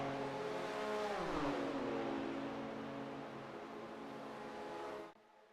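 Simulated race cars in the iRacing game sweep past at Monza, a loud sustained engine whine with a falling pitch as they pass, holding steady before cutting off abruptly.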